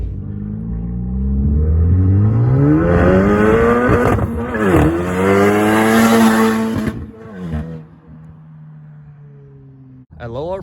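Honda Civic Type R FK8 and Civic Si FC1 with open front pipe exhaust, a deep loud engine rising in pitch through repeated revs, then falling away into quieter idle with a brief burst at the end.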